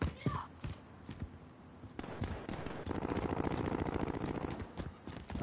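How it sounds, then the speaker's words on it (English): Bursts of automatic gunfire from a video game battle, a rapid rattling volley through the middle and later shots, with talk mixed in. "I hear gunshots."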